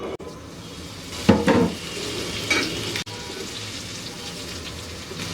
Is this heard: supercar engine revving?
no